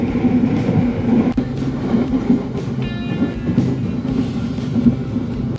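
A train from Bandung rolls steadily along the rails with a constant low rumble and rattle, and a brief squeal of metal rising partway through.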